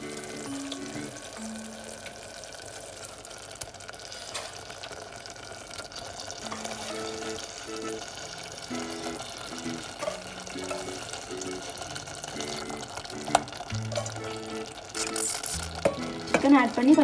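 Chicken pieces stirred into a curd masala in a pan for chicken kulambu: a steady wet sizzle with repeated spoon scrapes and clinks, plus a faint recurring musical tone underneath and louder clatter at the end.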